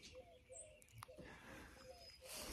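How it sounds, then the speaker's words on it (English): Mourning doves cooing outdoors on a quiet morning, soft low coos repeating a few times at a distance, with faint chirps from other birds over a quiet background. "Hear the morning doves out there"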